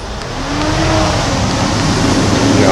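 Exhaust of a 2014 supercharged Honda Civic Si fitted with a Vibrant resonator, revving loud and steady with a droning, rising engine note that swells after a brief start.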